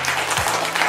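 Brief burst of crowd applause for Team Senco at a Holi-special family contest in a Senco Dunlop store, loud and close, lasting under a second.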